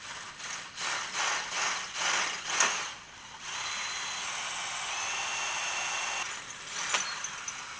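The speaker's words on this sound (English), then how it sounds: "Try to see if I can get it drilled the rest of the way." Power drill boring through a metal part for a homemade automatic-transmission shifter, in short bursts for the first three seconds, then a steady grinding run to about six seconds, ending with a few brief stutters; no talking.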